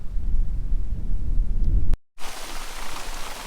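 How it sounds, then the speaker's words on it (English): Heavy December rain and wind roar loudly and steadily outdoors, cut by a brief dropout before the downpour resumes. "The rain's hammering down, the wind is blowing now"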